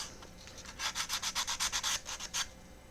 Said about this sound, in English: Now, sanding there is nice and simple.